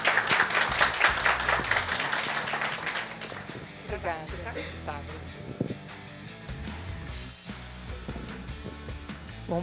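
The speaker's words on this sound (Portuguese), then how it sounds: "vamos dar umas palmas para a Adriana?" Applause from an audience at a business networking talk in São Paulo, a burst of clapping at the start that fades quickly into voices and room chatter.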